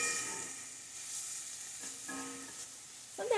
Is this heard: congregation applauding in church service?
no